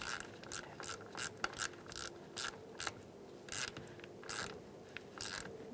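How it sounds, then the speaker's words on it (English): A ratchet with an 8mm socket clicks in short, repeated bursts while tightening the negative battery terminal on a 2000-2007 Ford Taurus 3.0L V6, with close, crisp metallic ticking and brief pauses between strokes. "You're going to take your negative battery terminal and put it on. Push it down, and use an 8mm socket."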